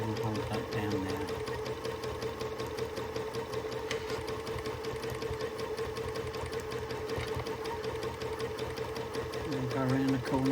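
Sewing machine stitching steadily while free motion quilting a quilt, a fast rhythmic mechanical whir that runs continuously and close, with someone talking over it most of the time.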